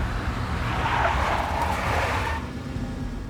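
A big black Mercedes in the Max Payne video game, with its engine roaring and tyres skidding and squealing loudly for about two seconds before the sound drops away.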